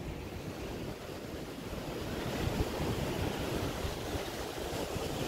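The Wkra river in Poland flows steadily past a gentle weir, a broad hiss of rushing water mixed with some wind noise, continuous and fairly quiet.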